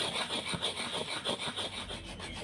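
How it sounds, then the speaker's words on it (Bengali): Sandalwood is ground into paste against a stone, giving repeated rhythmic rubbing strokes, close and fairly quiet, each a short scraping rasp at an even pace. "এবার তাদের মুছিয়ে নেব, চন্দনটা বেটে নেব।"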